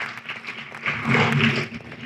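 Audience applause at a Uganda–India trade business summit, rising to a fuller burst of clapping midway and then thinning, with a murmur of voices underneath.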